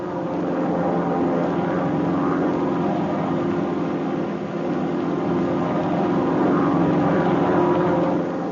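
Propeller training planes flying in close three- and four-plane formation give a loud, steady droning engine roar that holds constant with slight swells, with no voices.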